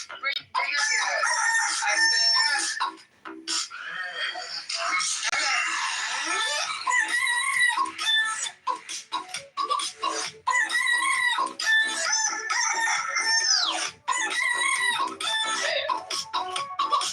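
Rooster crowing over and over with some clucking, loud and busy, with people talking in between.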